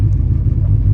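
A turbocharged Honda Civic engine idles steadily while warming up, a loud, continuous low rumble close by with no revving and no talk.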